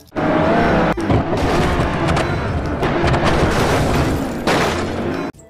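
A toy race car's loud electronic sound effect, a harsh roaring engine-and-boom burst that plays on continuously with brief dropouts and no speech.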